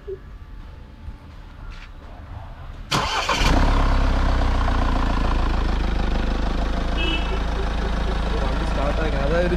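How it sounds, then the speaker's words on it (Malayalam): A Mahindra Thar BS6 is started after a few quiet seconds: a sharp crank catches and settles into a steady, loud, close-up idle rumble that holds to the end. "ചെറിയൊരു കാർ സ്റ്റാർട്ടാക്കുന്ന ഒരു സൗണ്ട്"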